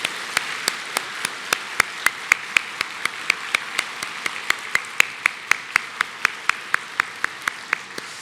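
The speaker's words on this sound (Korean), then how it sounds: "우리 청소년들 향해서 우리 격려의 박수를 한번 해주시겠습니까?" A congregation at a Korean church worship service claps for its youth in a steady, evenly spaced rhythm, each sharp clap distinct and continuing throughout without talk.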